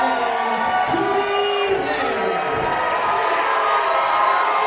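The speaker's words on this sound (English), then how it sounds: "Big reaction from the crowd, making his return to Glory Pro" Wrestling crowd at a Glory Pro event cheering loudly and continuously for a wrestler's return, a dense roar with shouts rising out of it.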